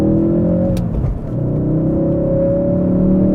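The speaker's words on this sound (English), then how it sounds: "do you like to hear that engine?" A 2016-2018 Ford Focus RS engine holds a steady, loud rumbling drone with sustained harmonic tones, rising slightly as it revs, with no talking over it.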